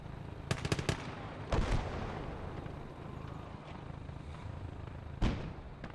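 Artillery and gunfire in the WWII strategy game Gates of Hell: Ostfront: several sharp booms near the start, a heavy blast around the middle and another late, over a steady roar of distant battle.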